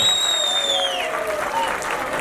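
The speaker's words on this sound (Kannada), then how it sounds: "ಜೋರ್ ಚಪ್ಪಾಳೆ ಬರಬೇಕು" An audience at a film title teaser launch event applauds, a dense burst of clapping from a crowd that holds steady and moderately loud throughout, with a brief whistle-like tone over the top.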